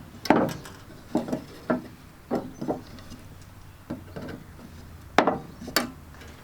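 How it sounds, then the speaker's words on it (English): A knife trims soft wire during slot car track repair, giving a series of short, close scraping cuts and clicks in irregular bursts, moderately loud with no talking. "this wire is pretty soft, so I'll just use my knife to trim that."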